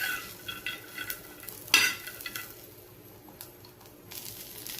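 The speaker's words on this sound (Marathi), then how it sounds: "आता हे भाजलेले शेंगदाणे टाकते आणि पुन्हा याला थोडंसं परतून घेते।" Roasted peanuts are stirred into frying chillies and garlic, a soft sizzle broken by scattered clinks and scrapes of a spoon against the pan, including one sharp knock, fairly quiet and without talk.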